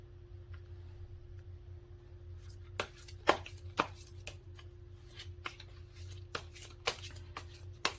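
Tarot cards are drawn and handled in a quiet room, giving sparse, sharp card snaps and flicks that cluster irregularly over a faint low hum.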